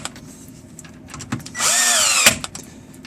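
An impact or power tool tightens a clamp on a cast iron pipe coupling in a stack replacement. Faint rattles lead into one loud, sustained whirring burst that ends in an abrupt click, followed by a few light taps.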